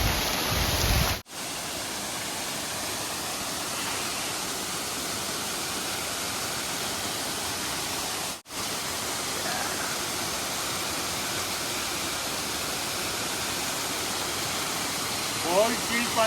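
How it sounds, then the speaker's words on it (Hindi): A village waterfall in the Harsil Valley, Uttarakhand, roars as a steady broadband rush of falling water, loud and continuous with brief dips, without audible talk. "और ये है वाटरफॉल इस गांव का।"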